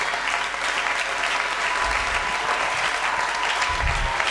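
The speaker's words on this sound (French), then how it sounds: "pour acclamer Dieu" A church congregation applauding to acclaim God, sustained dense clapping from many hands filling the room at steady loudness throughout, with faint voices mixed in underneath.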